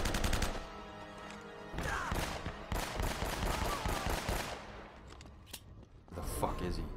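Gunfire in the video game Uncharted, with bursts of shots and loud game-action noise mixed with music, close and dense, with brief quieter gaps between volleys.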